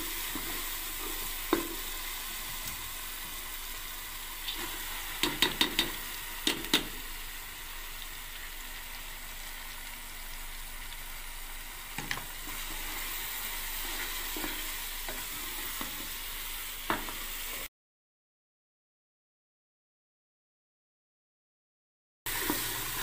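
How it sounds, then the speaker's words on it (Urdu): Dal mash sizzles and fries in a gravy while being stirred, a steady crackling hiss broken by several sharp scraping strokes of the spoon. The sound cuts out briefly near the end, and no one speaks. "جتنا اچھا دال کو بھونیں گے اتنی اچھی انشاءاللہ بنے گی"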